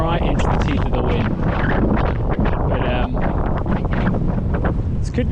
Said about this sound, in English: don't know if you can actually hear me due to the wind